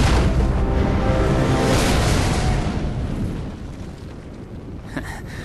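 A heavy tank cannon blast in a video game opens with a loud, broad roar that slowly rumbles away, followed by a faint crackle near the end.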